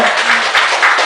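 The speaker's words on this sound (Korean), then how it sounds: "자, 박수 한번 잘 봐보세요." A roomful of people at a gathering applaud together, a dense, loud and steady burst of clapping heard close up with no voices over it.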